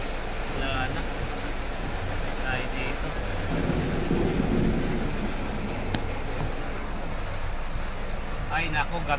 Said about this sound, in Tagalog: Ay nako, lakas ang ulan.